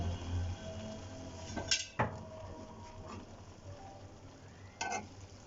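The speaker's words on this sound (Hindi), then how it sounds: "मैं इसमें चावल इसमें डाल के मिक्स कर लूँगी" Boiled rice is stirred into chicken biryani in a pot over low heat, with a soft continuous scraping and sizzle and a few sharp spoon clinks against the pot.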